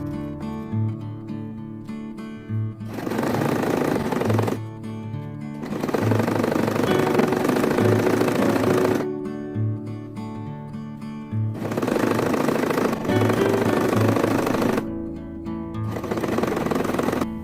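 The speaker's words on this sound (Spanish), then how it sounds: "Ahora lo que voy a hacer va a ser coser con puntada en zigzag" A sewing machine running a zigzag stitch along the edge of a bralette top, steady whirring runs in several bursts with short pauses between them, close and fairly loud.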